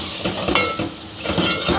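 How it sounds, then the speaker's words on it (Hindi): Fried minced keema being mixed with ginger powder, cumin and salt in a pan, close and fairly loud, with a steady sizzle broken by quick scraping strokes of a spoon. "कीमे को मैंने फ्राई कर लिया, अब इसमें स्पाइसेस ऐड करते हैं और इसको मिक्स करते हैं।"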